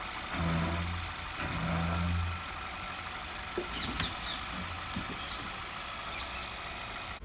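A Volkswagen Polo R-Line 1.2 TSI (6R/MK5) fires up after an oil change, revving briefly in two surges before dropping to a steady, quiet idle with faint clicks, close by and without talk.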